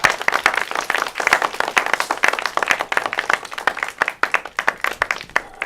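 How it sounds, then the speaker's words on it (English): Small group giving a guest a round of applause, a sparse close-up patter of a few people clapping at uneven rhythm, individual claps distinct and continuing steadily. "Let's give her a round of applause."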